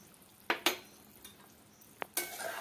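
A utensil stirs poppy seed paste with potatoes in a pan over a low gas flame in village-style cooking, giving a few sharp metallic clinks and scrapes against a quiet background.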